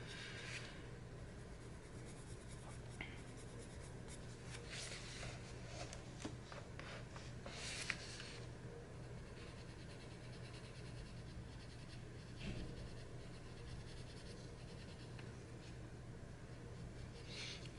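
Colored pencil shades a potion bottle drawing on paper, producing a soft, steady scratching with occasional firmer strokes, quiet and close, continuing throughout with no voices.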